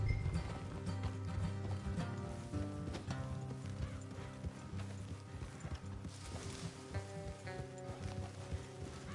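Horses clip-clopping along a trail in Red Dead Redemption 2, a steady rhythmic hoof patter under a thick layer of game music, with an occasional whinny.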